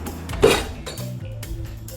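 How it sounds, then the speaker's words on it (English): Mac and cheese sauce being whisked in a pot, with short metallic clinks and scrapes of the whisk against the pot, close and brief. "Constantly whisking it and stirring it."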